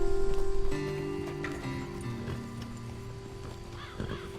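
Horses in Red Dead Redemption 2 clop and shuffle close by on a road near a ledge, with a snort or whinny, a rapid trot at the start and faint birdsong in the background.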